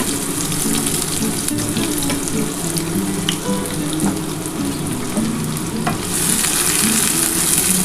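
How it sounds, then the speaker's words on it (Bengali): Onions and whole garam masala frying in hot oil for an egg korma, a loud continuous sizzle with stirring scrapes throughout that gets brighter toward the end, no speech. "এই তেলের মধ্যেই আমি যে গোটা গরম মশলা দিয়ে দিলাম পেঁয়াজ দিয়ে দিলাম"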